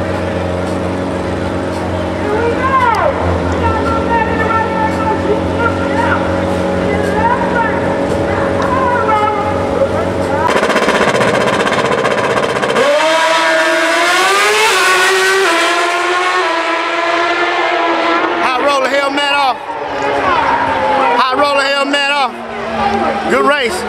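Grudge bikes in a shoot-out race at a drag strip, loud sustained engine wail with sharp revving climbs and shifts, an announcer talking over the noise throughout.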